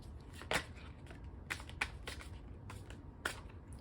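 A deck of tarot cards is shuffled quietly, with soft scattered riffles and a few sharper card snaps close by, and no one talking.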